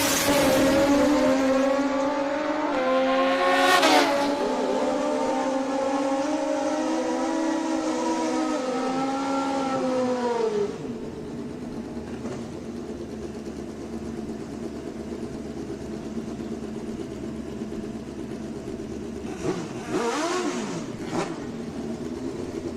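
A Kawasaki drag racing motorcycle at a Super Comp drag race event in Adel, Georgia screams loudly through rising gear-shifted revs, then fades into a distant, sustained engine drone as another high rev passes near the end.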